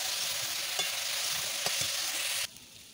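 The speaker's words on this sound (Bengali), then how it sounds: "একেবারেই আমি ভাজা ভাজা করে অনেকক্ষণ ধরে কষিয়ে নেব" Kohlrabi and potato pieces with salt and green and ripe chillies sauté in a pan, producing a loud, even hiss with a couple of stirring knocks before the sizzle suddenly drops away near the end.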